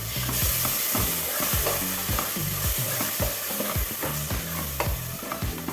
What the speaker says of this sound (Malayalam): അതിൻ്റെ തക്കാളിൻ്റെ ഒരു പച്ചച്ചുവ മാറണ വരെ ഒന്ന് വഴറ്റിയെടുക്കുക.